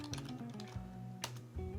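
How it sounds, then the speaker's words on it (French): Keys tapped on a keyboard wired to a Raspberry Pi, a quick run of close, light clicks with a steady hum behind them and no voices. "il faut déverrouiller la session du Pi, donc avec un clavier branché dessus"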